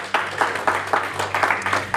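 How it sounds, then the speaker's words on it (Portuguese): Church congregation clapping together, a rhythmic run of roughly eight even claps close by, steady and loud with no talk over it. "Uma salva de palmas para Jesus que Ele merece."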